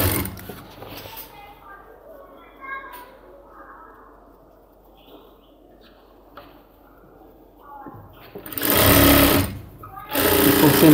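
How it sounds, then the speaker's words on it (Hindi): A sewing machine stitches the side seams of cargo half pants, with two loud close bursts of rapid stitching near the end. A person talks quietly through the quieter earlier stretch. "तो दोनों मिला के सिलाई लगाएंगे"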